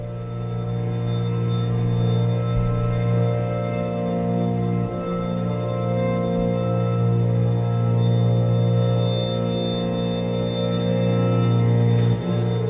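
A string quartet plays a piece inspired by the sound of a refrigerator, with steady sustained drones holding nearly unchanged for over twelve seconds, with only a few faint shifts and no voices.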